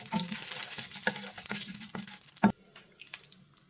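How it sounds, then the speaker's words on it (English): Cumin seeds and curry leaves crackle in hot oil in a pan, with sharp pops and spits over a soft sizzle that fade after a final loud crack. "The hot oil, add 1 teaspoon of cumin seeds, a few curry leaves."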